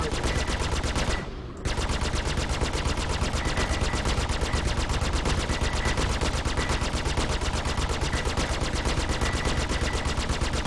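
Rapid, sustained machine gun fire in an aerial combat video game, a dense unbroken stream of shots that briefly cuts out near the start before resuming loud and close.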